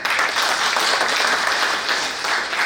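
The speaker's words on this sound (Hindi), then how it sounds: "मैं इसके लिए सभी लोगों से कहूँगा कि जोरदार तालियां बजाएं" A crowd applauds loudly and continuously, dense clapping filling the whole stretch without a break.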